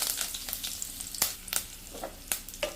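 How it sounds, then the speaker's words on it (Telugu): Mustard seeds, dried red chillies and curry leaves frying in a pan for pudina rice, a close crackling sizzle with sharp popping bursts, with no talk. "సో ఆవాలు అవి వేగిన తర్వాత 2 ఎండుమిరపకాయలు, అలానే కొద్దిగా కరివేపాకు."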